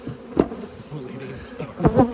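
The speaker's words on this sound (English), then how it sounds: "Now they've really collected a lot of bees." Honey bees buzz around stacked commercial hive boxes in a beekeeping yard, a steady insect drone with two closer, louder passes as bees fly near.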